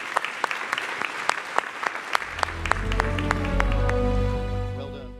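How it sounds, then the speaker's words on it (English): A conference audience applauding its panelists, a few scattered claps that quickly swell into steady, full applause from a large crowd, then begin to fade. "A warm round of applause for our panelists"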